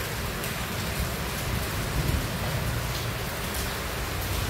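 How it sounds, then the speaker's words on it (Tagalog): Steady, dense rain pours outside an office on a stormy morning, a continuous hiss that stays even and unbroken. "Ulan na naman, may bagyo ata."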